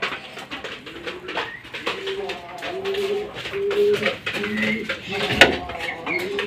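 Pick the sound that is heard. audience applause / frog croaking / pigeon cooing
pigeon cooing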